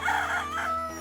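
A rooster crows once, a short, close, clear cock-a-doodle-doo heard on its own.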